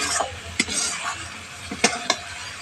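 A spice paste sizzles steadily in hot oil for a vegetarian potato curry, with a spoon scraping and clinking against the pan in several sharp, close strokes.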